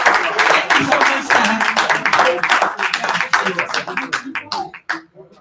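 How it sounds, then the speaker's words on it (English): A conference audience in Kigali claps steadily in a dense burst of applause that thins toward the end, with voices mixed in. "a round of applause for Prof, please."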